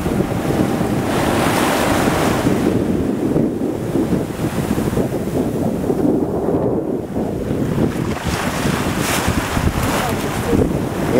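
Strong wind and rushing waves surround a sailboat on the Salish Sea heading back from Victoria, as a constant loud roar of water and microphone wind buffeting carries on with no break.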